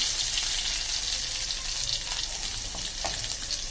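Garlic sizzles in hot oil in a pan for sambar: a dense, steady crackling hiss, near and fairly loud throughout, with no talking.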